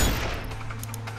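A single sniper rifle shot in the video game Sniper Ghost Warrior 2 cracks at the start, loud and close, then trails off into a fading echo over a low steady hum.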